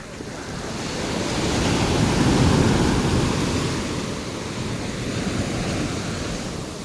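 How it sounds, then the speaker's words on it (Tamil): Ocean waves at a Pondicherry beach wash in a broad, continuous surf roar that swells and eases gently, mixed with wind noise on the microphone, with no talking. "மக்களே வர வர அலை வந்துட்டு மேலே வந்துகிட்டே இருக்குது."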